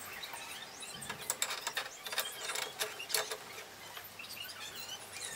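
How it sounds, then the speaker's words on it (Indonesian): An adjustable wrench tightens a car air-conditioning part while an AC unit is being installed on a Suzuki Katana DX, producing close, light metallic clicks and scraping ticks in short uneven bursts, with no talk. "Kita kencangkan dengan kunci Inggris karena saya tidak punya kunci pasnya"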